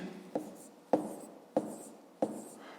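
Chalk or marker writing on a board during a fifth-grade maths lesson, four short scratchy strokes spaced evenly, each with a sharp onset and brief drag, close and fairly quiet.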